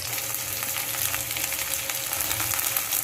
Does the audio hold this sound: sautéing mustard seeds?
yes